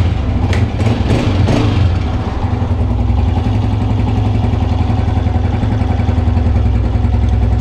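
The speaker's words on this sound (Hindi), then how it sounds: "तो दोस्तों, बाइक को पहले स्टार्ट कर लेते हैं।" Honda CG 125 motorcycle single-cylinder engine started, with a few kick or cranking bursts at the beginning, then settling into a steady, close, loud idle with an even low thumping pulse and no voices.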